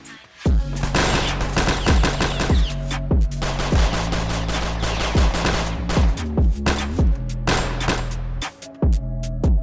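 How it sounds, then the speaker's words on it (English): Rapid bursts of gunfire ring out in a sound effect, loud sharp reports fired in quick automatic strings with brief pauses, close and dominant with no talking. "he heard shooting inside the apartment the gun selling was taking place."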